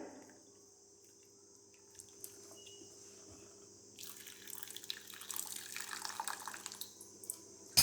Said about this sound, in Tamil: இந்த தண்ணியை வந்து ஒரு பவுலில் ஒரு பாத்திரத்தில் ஊற்றிடலாம்